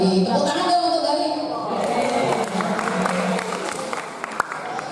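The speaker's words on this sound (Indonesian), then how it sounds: "Tepuk tangan dong untuk Galih." Students and guests at a school event at SMK Pleret clap for a student, a scattered, moderate round of hands rising after a voice fades, with crowd murmur and some talk mixed under the clapping.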